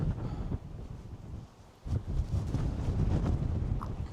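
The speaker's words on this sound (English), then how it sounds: "Wow, that wind is strong." Strong wind gusts buffet the microphone on an exposed Staffordshire hilltop by the Wedgwood Monument, a dense roar that dips briefly and then surges back louder.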